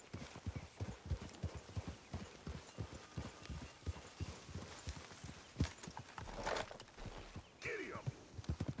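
Horse hooves gallop in a steady rapid clip-clop rhythm in Red Dead Redemption 2, moderately close, with faint game ambience and a brief snort near the end.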